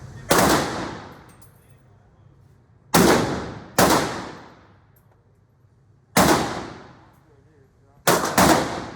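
Five heavy single gunshots from a .50 caliber Desert Eagle pistol at an indoor gun range, each a loud sharp crack with a long booming tail, spaced irregularly a second or more apart with quiet gaps between.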